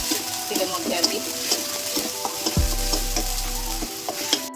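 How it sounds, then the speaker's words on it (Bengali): Ginger paste frying in hot oil for an egg korma, a steady sizzle broken by spatula stirs and clinks, with a low electrical hum entering partway through. "আদা বাটাটা আমি কিছুক্ষণ ভেজে নেব"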